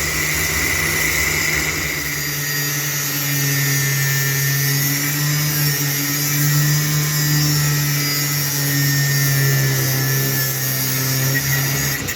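Power tool cutting steady and loud throughout a milling job, a continuous droning whine with a strong low hum and high-pitched tonal bands, no talk.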